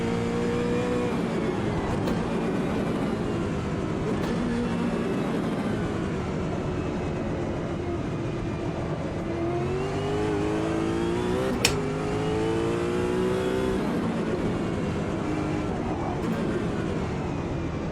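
Brabham Formula Classic race car in the Automobilista 2 sim racing game, a high-pitched engine rising and falling through gear changes as it accelerates and brakes, loud and constant from onboard, with a brief sharp click near the middle.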